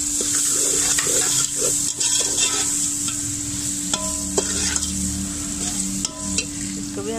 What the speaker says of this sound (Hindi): इसको भी भून लेना है, अच्छी तरह भून लेना है।